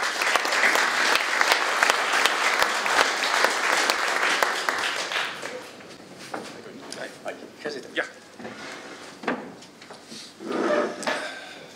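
An audience in a theater café applauds for several seconds, dense close clapping that thins and fades into scattered claps and a few voices before talk resumes.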